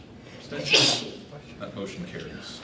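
A single sharp sneeze goes off in a school board meeting room, brief and fairly loud, surrounded by people talking.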